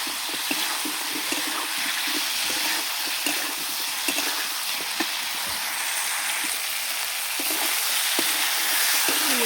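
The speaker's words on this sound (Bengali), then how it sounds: "দিয়ে ভালো করে মশলাটা কষিয়ে নেব।" A masala with chopped tomato and fried potatoes fries in a pan, a dense steady sizzle broken by soft, regular spatula taps and scrapes as it is stirred, close by and with no talking.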